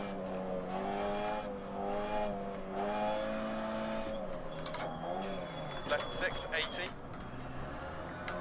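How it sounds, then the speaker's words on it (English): A rally car in the racing game Dirt Rally brakes hard, engine droning and then dropping as tires scrub and squeal, with a co-driver's pace notes over the top. "I had to slam the brakes on then"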